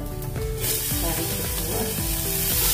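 Onions browned in a pan sizzle loudly as coriander powder and tomatoes are added for a dosa-side dish. The frying hiss sharpens when the food hits the oil, and stirring scrapes continue beneath a steady crackle.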